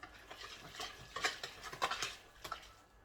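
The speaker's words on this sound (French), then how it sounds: "Et j'essaie de mélanger avec de la crème chantilly." A utensil stirring whipped cream in a bowl or pot, heard as faint, irregular scraping and light clicking taps close by, with no voices.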